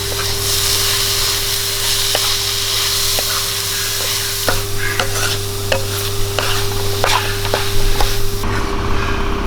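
Boiled chickpeas sizzling and being stirred in a hot pan: a loud, steady frying hiss broken by repeated scraping clicks of the spoon, with a low steady hum underneath.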